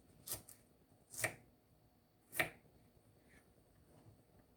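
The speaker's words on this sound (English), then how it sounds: "I'm using a knife to cut it with, and I have a little paring knife that I usually use" A small paring knife slicing through okra on a board gives three quiet, crisp cuts spaced about a second apart, with near silence in between.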